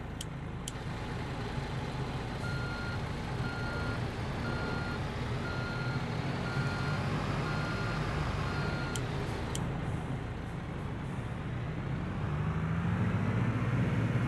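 Reversing beeps from a truck in the Construction Simulator 3 video game repeat at a steady regular rhythm over a constant low engine rumble, with no talking.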